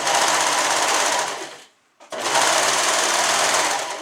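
A sewing machine stitches a suit seam with a loud, continuous, close whir that stops briefly for a moment before resuming at the same steady pace.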